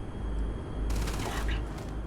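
A heavy automatic weapon, the Incendiary Bridger in the game Starfield, fires a short burst of rapid shots that starts partway through and stands out over a steady game background hum.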